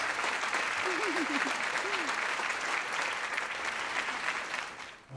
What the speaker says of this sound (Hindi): लड़कियां इसके लिए ताली बजा रही हैं बॉस।